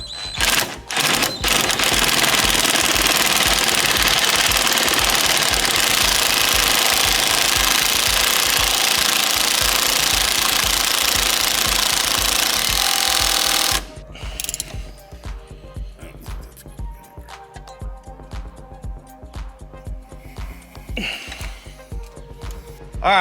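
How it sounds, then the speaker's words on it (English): Dense, rapid ratchet clicking tightens the steering wheel bolt on a 2022 11th-generation Honda Civic, loud and continuous for about fourteen seconds, then scattered quieter clicks and handling noises. "put the bolt in. I'm gonna start with this and finish up with the ratchet."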